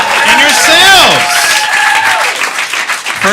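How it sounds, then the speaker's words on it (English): Audience applause for a comedian at the Fallout Theater: dense, sustained clapping with rising and falling whoops and cheers from the crowd, loud and close. "Keep that clapping going for Duncan, you guys, and Brendan, and yourselves,"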